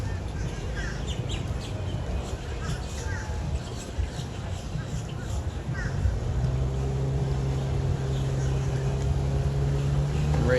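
A vintage Amphicar amphibious car's steady engine drone rumbles over moving water outdoors, with wind noise and a few faint bird calls in the background.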